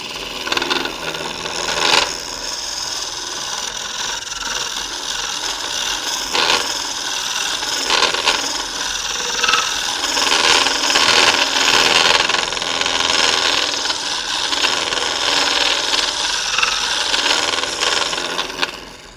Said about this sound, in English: We'll go in there and smooth that out just a little bit with this carbide